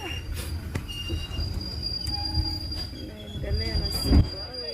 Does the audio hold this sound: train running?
yes